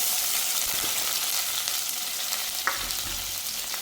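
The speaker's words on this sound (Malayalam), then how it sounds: "വെളിച്ചെണ്ണ ചൂടായിട്ടുണ്ട് നമുക്ക് കടുക് ഇട്ട് കൊടുക്കാം" Mustard seeds sizzle and crackle in hot coconut oil, a steady close frying hiss with occasional faint pops, no talking.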